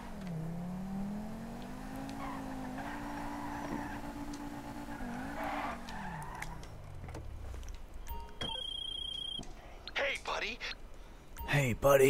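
A car in Grand Theft Auto Online drives with a steady engine drone that rises, holds and then winds down, followed by game clicks and effects. A person talks over it.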